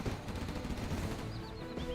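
A Gat Cannon firing in a 3v3 competitive match of a vehicle combat game, a fast rattling stream of shots mixed with engine rumble, moderately quiet and steady throughout.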